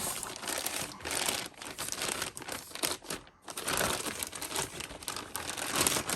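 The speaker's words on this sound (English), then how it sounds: "but I will get it out of the plastic here." Plastic packaging crinkles and crackles continuously up close as an item is unwrapped, with dense rustling bursts and a brief pause partway through.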